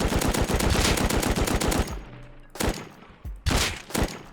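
A newly added gun firing in the video game Rust, compared to an M9: a rapid automatic burst of shots for two seconds, then two shorter bursts after a pause, loud and close.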